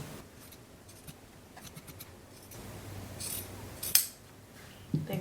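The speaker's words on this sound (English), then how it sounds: "we're going to go ahead and trim around our pocket flaps" Scissors snip around sewn fabric pocket flaps for a long coat or vest: a string of quiet, close, crisp cuts, with a couple of sharper snips near the end.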